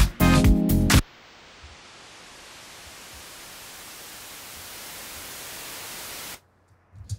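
Synth white noise from the noise section of Logic Pro X plays as an even, steady hiss for about five seconds after a brief tonal burst, then cuts off abruptly.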